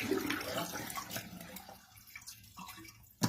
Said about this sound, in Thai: เอาใหม่ชักโครกอีกรอบนะคะ